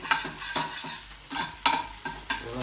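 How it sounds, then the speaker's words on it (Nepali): Garlic and capsicum fry in a pan, a steady sizzle broken by several scraping stirs of a utensil, close and fairly loud, with no talking. "मजाले ड्याम फ्राई दिनुपर्ने हुन्छ एकछिनको लागि"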